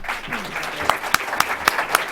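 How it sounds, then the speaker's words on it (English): Scattered applause follows an environment and energy panel discussion. A few distinct, sharp claps ring out at an even pace over a soft background of room noise and murmur. "Please, a big round of applause for the panel and also for Jessica."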